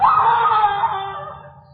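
A woman screams in one long, sustained, high-pitched cry that starts loud and slowly fades, with no talk over it.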